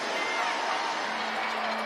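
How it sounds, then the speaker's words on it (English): Crowd applause and cheering at PNC Park during a Savannah Bananas baseball game, a broad steady wash of distant clapping and crowd noise with no pauses. "The crowd here in PNC Park giving Wilson another big round of applause."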